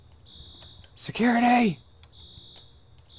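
Alarm ringing in the video game Infra, a steady high electronic tone running throughout, briefly interrupted by a loud shouted voice in the middle.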